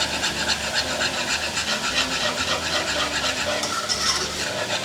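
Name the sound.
whisking milk into a roux in a pan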